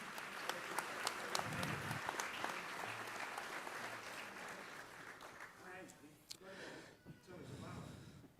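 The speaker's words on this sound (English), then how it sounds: "And a big round of applause for our big brother" Audience applause during a graduation ceremony in Sydney, with rapid clapping over the first few seconds that thins out, while voices and shuffling carry on beneath it.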